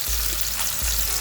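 Oxtails fry in a hot pan, giving a loud, steady, close sizzle with dense crackling throughout and a low rumble beneath, with no voices.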